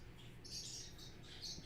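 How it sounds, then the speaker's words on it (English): Two pet birds squawk and chirp faintly in the background, giving several short, shrill calls over a low steady room hum, with no talking. "In the background, you hear those are my two birds, Beavis and Butthead."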